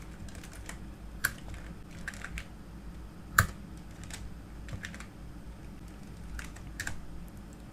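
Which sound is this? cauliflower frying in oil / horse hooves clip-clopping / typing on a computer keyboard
typing on a computer keyboard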